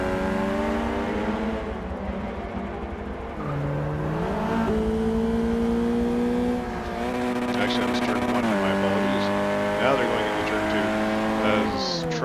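Touring race cars in a video-game race at Hockenheim drag race into turn two with sustained engine whine climbing through gear changes. A commentator talks over the loud, continuous engines.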